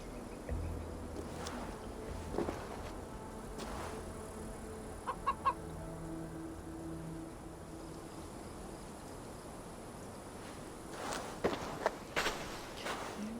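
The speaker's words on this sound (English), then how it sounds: "I see only a chicken." A chicken in a video game clucks in a few short, sharp bursts, some near the middle and more toward the end, over quiet ambient noise with faint footstep-like sounds.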